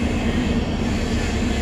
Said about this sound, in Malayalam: ട്രെയിൻ നമ്പർ 16576 ഗോംതേര എക്സ്പ്രസിൻ്റെ വിശ്രം കോച്ചിലാണ് നമ്മളിന്ന് യാത്ര ചെയ്യുന്നത്.